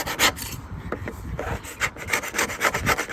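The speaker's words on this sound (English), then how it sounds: "I've taken a lot of the thick layer off with the scraper as well" Metal scraper rasping a thick layer of old glue off the aluminum hull of a jon boat, a steady series of close, gritty scraping strokes with no voices.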